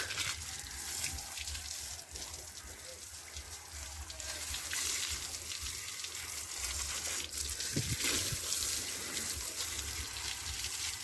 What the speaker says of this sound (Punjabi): ਪਾਣੀ ਤਾਂ ਨਿੱਗਾ ਟੋਟੀ ਦਾ